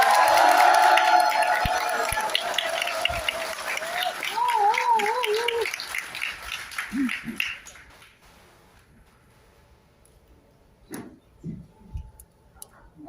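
Audience applause and cheering at a Korean talk show event, loud clapping and crowd noise at the start under a host's speech, fading into quieter talk, with a few scattered claps near the end.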